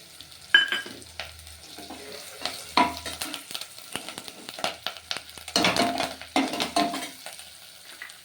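Curry leaves crackle and sizzle in hot oil in a frying pan, with bursts of spattering and stirring clatter rising and falling, close and fairly quiet.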